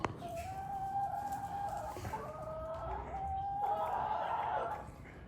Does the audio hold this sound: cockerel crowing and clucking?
yes